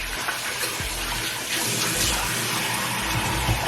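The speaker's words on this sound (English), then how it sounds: "Once you've rubbed this in completely and you feel like you got everything off, then just wash your face." Water splashes and runs steadily from a tap at a sink during face washing, a close, continuous rush with soft splashes from hands.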